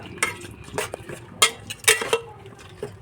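Curd being stirred into Kushka rice biryani in a pot makes a spoon scrape and clink repeatedly against the metal sides in an uneven rhythm, with a low background hiss.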